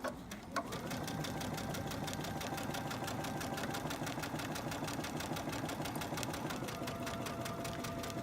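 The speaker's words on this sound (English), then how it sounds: "I put my presser foot down and I stitch now on this line" A sewing machine stitches along a seam line in a fast, even, continuous whir with a steady mechanical beat, close and alone after a brief start.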